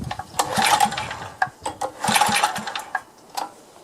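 A Craftsman gas edger with an Eager-1 engine, choke fully on, is cranked repeatedly: rough, rhythmic pull-start bursts close by, with short gaps between pulls and no sign of the engine catching.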